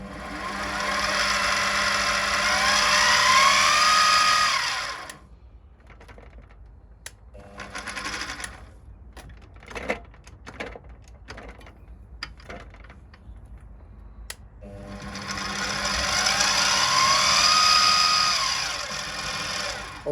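A milling machine motor runs at half speed in a high gear range of up to 2,500. A steady whine starts alone and fades into quieter clicks and handling noises midway. It then ramps back up to a strong, sustained hum.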